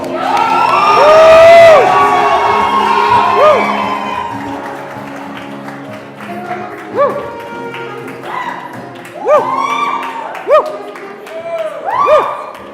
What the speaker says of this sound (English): Give Vus'umuzi a massive round of applause